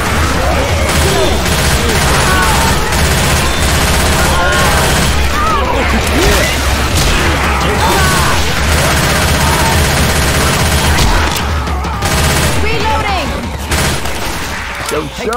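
Continuous loud gunfire rattles through a Left 4 Dead 2 match, rapid bursts and crashes layered densely with chaotic noise and players talking over the fighting.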